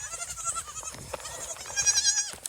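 Several goats bleat close by, overlapping wavering cries with a louder burst toward the end.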